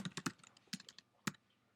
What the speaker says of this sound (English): I'll keep typing.